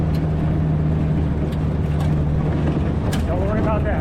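A Willys Jeep engine drones steadily as it is driven, with a rising rev near the end, under intermittent talk from people in the vehicle.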